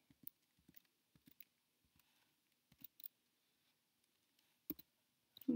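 Light, scattered keystrokes on a computer keyboard while typing into an Excel chart, soft quiet clicks in short irregular bursts separated by silence, with a louder tap or two at the end.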